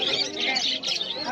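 Cockatiels and sparrows at a busy pet bird market give rapid high chirps and tweets, close and fairly loud, with voices around them.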